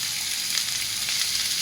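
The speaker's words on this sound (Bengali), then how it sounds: "আমি এখন আলুগুলো ভেজে নেব" Potatoes fry in hot oil in a wok, giving a steady, dense sizzle that holds evenly throughout the short stretch with no voices.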